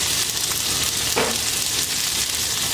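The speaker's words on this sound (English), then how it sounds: "That's the sound you want to hear. That's the frying sound." Breakfast hash frying in oil on a 36-inch Blackstone griddle, giving a loud, dense, continuous sizzle with a brief scrape partway through, close up and without talk.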